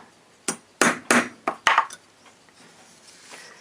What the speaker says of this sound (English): I'll just stake this over so that it's snug on that pendulum